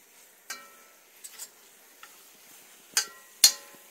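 A spoon scraping and stirring a thick flour roux with mushrooms in a pot: sparse, soft clinks and scrapes at irregular intervals, with a faint sizzle beneath.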